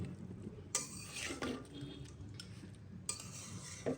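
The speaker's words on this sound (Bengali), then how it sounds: "এই জন্য চামচ দিয়ে মাখিয়ে নিচ্ছি" Spoon scraping and clinking against a bowl while mixing spiced beef tripe, a few soft knocks and scrapes spaced unevenly over a quiet kitchen background.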